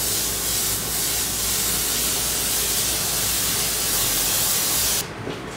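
An airbrush sprays transparent red paint in one continuous, close, even hiss that stops sharply just before the end.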